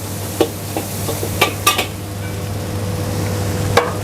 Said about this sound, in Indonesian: kita tumis-tumis biar wangi